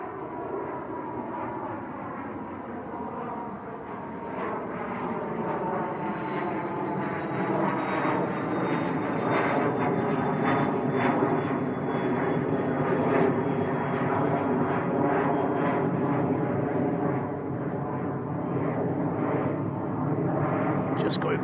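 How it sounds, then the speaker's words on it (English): A jet airliner takes off from Manchester Airport and climbs out powerfully, its roar building into a loud, sustained rumble that sweeps past, with someone talking over it. "It's quite a powerful climb out."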